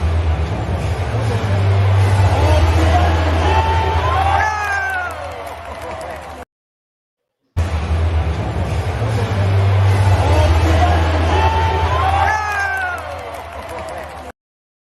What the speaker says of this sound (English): I think that was the biggest cheer of the night